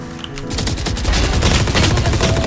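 Rapid automatic fire from a Nebula-skinned gun in Valorant, a dense close burst of shots starting after a brief lead-in and hammering on loudly to the end.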